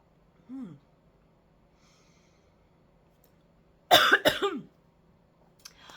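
A person coughs and clears their throat: one short throat-clearing sound, then after a pause a louder burst of several harsh coughs close to the mic in a quiet room.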